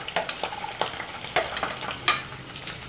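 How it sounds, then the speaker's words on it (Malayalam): Coconut pieces fry in oil, a close sizzle broken by repeated scrapes and knocks of a spoon stirring against the pan in an irregular rhythm. "ചെറുതായിട്ടൊന്ന് തേങ്ങാക്കൊത്ത് മൂത്തിട്ട്"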